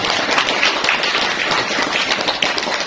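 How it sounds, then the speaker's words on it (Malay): An audience at a Maulid Nabi gathering in an Islamic boarding school applauds Pak RT, the neighbourhood head, with dense, steady clapping that fills the whole stretch. "Tepuk tangan untuk Pak RT dulu."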